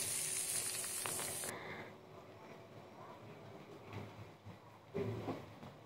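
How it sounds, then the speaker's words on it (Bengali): Sliced bitter gourd (karela) fries in a pan with a loud, hissing sizzle for the first second and a half, then the sound cuts away to quiet with a few light clinks. "এই যে আমার করলা ভাজি করা হয়ে গেছে, এখন ধনে পাতা দিয়ে নামিয়ে ফেলবো"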